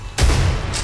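A single loud gunshot cracks in the horror shooter Underhell as a bullet strikes a barrel, a sharp burst followed by a booming tail lasting under a second, with no talk.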